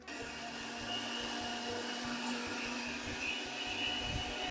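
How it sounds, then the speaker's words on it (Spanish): A kitchen blender runs steadily while blending a sauce seasoned with salt, a continuous whirring motor drone that is moderately quiet and heard alone without talk. "Y vamos a la licuadora."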